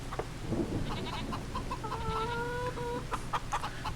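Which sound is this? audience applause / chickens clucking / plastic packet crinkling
chickens clucking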